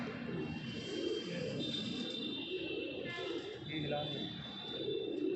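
Dhanne wale pigeons coo in soft, low, repeated murmurs close by, over a steady background hiss with faint higher calls.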